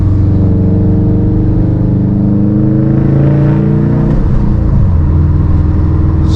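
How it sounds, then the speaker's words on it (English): A HyperBlue STI's engine hums steadily and loudly from inside the car, its pitch shifting slightly as it drives, with no one talking. "this car's running so smooth"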